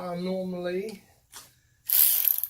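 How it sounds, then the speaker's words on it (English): A ratchet tightens bolts on a Kia Sportage, giving two short bursts of rapid mechanical clicking near the end, after a brief voice at the start. "I normally always tighten bolts from the center right here outwards"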